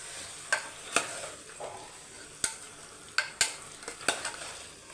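Chicken simmering in a pan for chicken kuzhambu is stirred with a utensil, giving sharp, separate scrapes and knocks at irregular intervals over a low sizzle.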